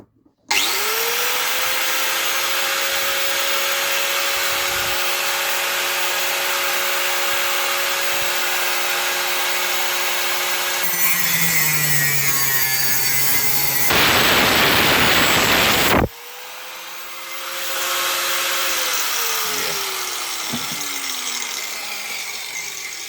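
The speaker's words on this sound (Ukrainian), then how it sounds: "беремо болгарочку і нам треба це надрізати" An angle grinder cuts a knife bolster, a loud close whine that holds steady as it bites in, dips and changes pitch under load, then spins back up after a brief harsh burst.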